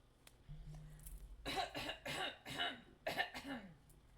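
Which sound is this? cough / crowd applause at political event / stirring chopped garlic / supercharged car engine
cough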